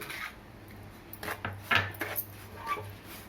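Metal spoon stirring ravva laddu mixture in a pan, soft scattered scrapes and light clinks at close range, quiet and irregular.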